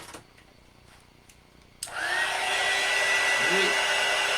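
After a few quiet moments with faint taps, a hair dryer switches on abruptly and blows a steady, loud whooshing hum close by to dry a freshly finished simple wooden wall shelf.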